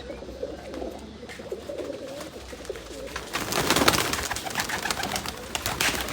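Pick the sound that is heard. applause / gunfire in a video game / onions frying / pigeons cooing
pigeons cooing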